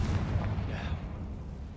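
Confringo explosion spell in the video game Hogwarts Legacy, a deep booming blast fading into a low rumble, loud and brief.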